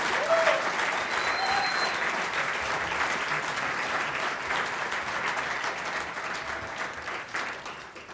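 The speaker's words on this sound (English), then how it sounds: "Give a big round of applause for our recipient of the Faculty Teaching Award, Dr. Steve McLaughlin." Audience applause at a winter awards ceremony honoring a faculty teaching award recipient, a steady, dense clapping from a large crowd that holds at full strength and tapers slightly near the end.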